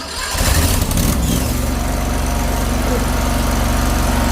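A Chinese CRT23 mini skid steer's small engine turns over cold on half throttle and full choke, catches within about a second, then settles into a loud, steady, even idle with no talk.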